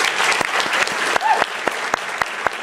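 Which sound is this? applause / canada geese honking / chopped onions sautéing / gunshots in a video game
applause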